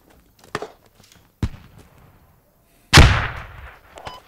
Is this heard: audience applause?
no